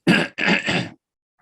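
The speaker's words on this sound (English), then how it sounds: "Excuse me while I clear my throat" A person clears their throat in three rough, gravelly bursts close to the mic, followed by silence.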